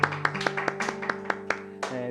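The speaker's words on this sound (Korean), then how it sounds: "우리 살아계신 하나님께 영광의 박수 올려드리겠습니다" A small church youth congregation at Sunday worship claps in praise to God, about ten distinct, fairly loud claps in a loose, steady rhythm over a faint hum, with a brief spoken sound near the end.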